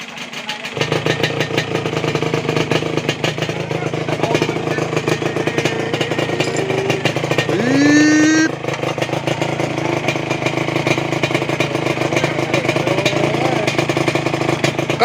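Yamaha VR150 two-stroke motorcycle fitted with a new exhaust pipe, idling loudly and steadily up close with a raspy buzzing tone and one brief rev, with people talking faintly underneath.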